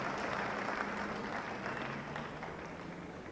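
A colourful cricket crowd at a Test match in Wellington, New Zealand, breaks into loud, sustained applause and cheering for a boundary struck along the ground by Martin Crowe, a dense wash of clapping that eases slightly toward the end.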